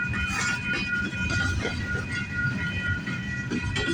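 A CP freight train rolls past near Agincourt in Toronto, a close, steady rumble with rail clatter and faint wheel squeal throughout.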